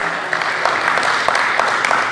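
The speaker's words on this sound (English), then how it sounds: "Can we give him another round of applause?" Applause from a conference audience at a cybersecurity event, steady crowd clapping with dense overlapping claps at moderate loudness throughout.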